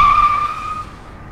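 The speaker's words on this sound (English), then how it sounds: "I didn't hear that car." A cartoon car skids past with a sharp, loud tire squeal that fades away within a second, heard alone.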